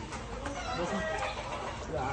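Chickens cluck close by in short, uneven bursts at a poultry farm, while a person's voice murmurs faintly beneath them.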